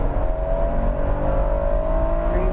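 Honda VTEC car engine on an old race track, holding a loud steady drone whose pitch climbs gradually as it revs, close and without voices.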